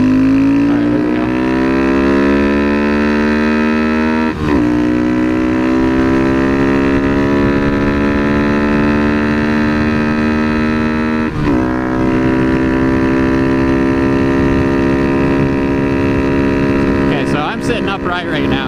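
Grom DHM 186 motorcycle engine revving hard at full throttle, a loud steady drone climbing in pitch through the gears with two brief dips at shifts, wind noise rising near the end.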